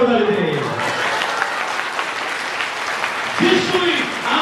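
A church congregation at a revival meeting claps loudly and continuously, a dense wash of applause with a voice speaking over it.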